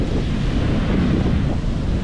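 Ocean waves breaking on the beach at Byron Bay, Australia, leaving foam behind in a strong current, heard as a loud continuous roar of surf mixed with heavy wind buffeting the microphone.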